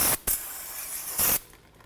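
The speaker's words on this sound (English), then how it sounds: "let's hit it with a little bit of parts cleaner." Two short bursts of aerosol parts cleaner sprayed onto the rear brake hub of a 2004-12 Chevy Malibu, each hiss lasting a fraction of a second with a pause between, close and fairly loud with no talking.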